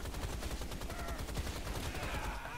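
Rapid bursts of video game gunfire from Rise of the Triad crackle in quick succession, a dense steady stream of shots at moderate volume with no voices.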